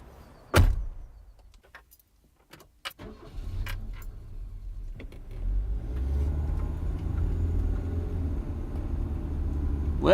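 A car door thuds and the engine catches, then builds into a steady low rumble as the car pulls away. Scattered clicks and knocks come first, with no voices.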